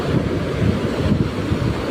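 Broadband roar of surf and wind, steady and loud throughout, with rolling low rumbles like large ocean waves breaking nearby, with a strong current.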